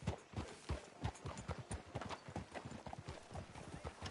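Horse hooves clip-clop in a steady, brisk rhythm in a video game, close and continuous, with a faint whinny in the mix.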